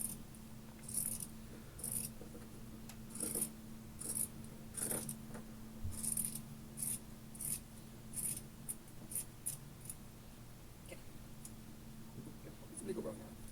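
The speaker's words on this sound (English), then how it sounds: "So I'm cutting the top and the bottom at the same time." Scissors snip through a t-shirt, cutting the top and bottom layers at once in a steady run of crisp, close cuts that slow and thin out toward the end, over a low steady hum.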